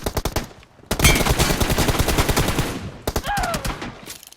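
Rapid automatic gunfire in the PUBG Mobile game: a short burst, a brief pause, then a long loud sustained volley of shots, ending in another short burst.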